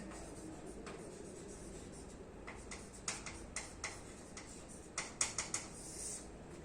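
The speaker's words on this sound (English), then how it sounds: "I will write here Newton's rings experiment" Chalk or marker writing on a board during a physics lecture on Newton's rings, a quiet series of short taps and scratches that grows denser toward the end, with no talking.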